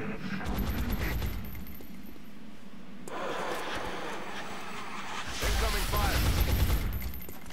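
Bursts of suppressive gunfire crackle in the Xeno Hunters video game, rather faint and separated by quieter stretches, with a voice speaking over the shooting.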